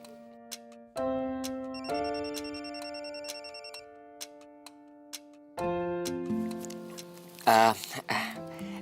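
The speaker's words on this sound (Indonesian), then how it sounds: "Aku terima telepon dari papi aku." A phone rings with an incoming call in an Indonesian TV drama scene, a melodic electronic ringtone of repeated tones, fairly loud and close, with a brief burst of other sound near the end.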